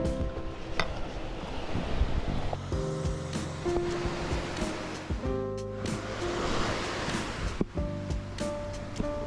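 Ocean waves wash onto a beach in Dalian, China, a continuous rushing surf with wind noise beneath faint background music.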